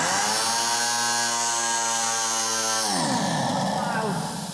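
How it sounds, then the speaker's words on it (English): A handheld pneumatic rock borer drill, normally used on an air leg, hammers loud and close with a steady harsh buzzing roar, then its pitch drops and it winds down into rattling. "It's called a rock borer, and you would use that with a machine, on an adapter machine called an air leg."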